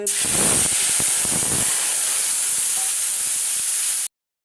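Dried red chillies and panch phoron spices sizzle and spit in hot oil for a Bengali dhokar dalna. A loud, steady, close-up hiss runs throughout, with brief crackles and pops near the start, and it cuts off abruptly.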